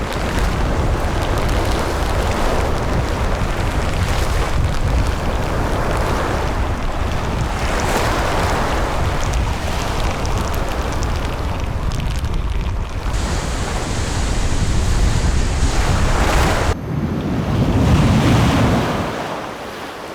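Huge typhoon storm waves crash and churn around a small island, loud surging roars rising and falling over a constant wind rush, with bigger swells building toward the end.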